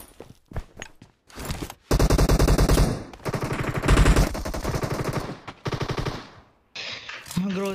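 A Groza rifle fires long automatic bursts in a video game deathmatch, loud and close, broken by short pauses and a few single shots, with rapid clatter and mechanical clicks between volleys.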